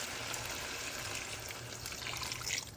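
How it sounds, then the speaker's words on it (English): Water poured into a baking dish of salmon being prepared with gravy, a steady close broadband splashing and trickling that runs without a break. "Add some water."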